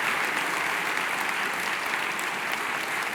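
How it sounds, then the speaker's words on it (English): Sustained applause from a conference audience at an International Women's Day gathering in Paris, honouring Mrs. Rajavi, a steady dense wash of clapping held at an even level throughout without a break. "Give her an applause."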